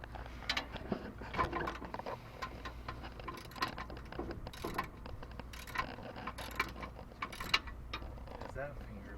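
Bolts come out of a Ford Super Duty bracket in quiet, irregular mechanical clicks and ticks, like a ratcheting tool working in short bursts, with faint background noise between them.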